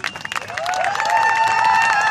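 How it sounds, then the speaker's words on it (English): Applause and crowd noise from spectators at a live jousting event, building from scattered claps into a fuller, sustained ovation, with faint pitched sounds rising and falling over the crowd. "And give a round of applause for our competitors here this afternoon."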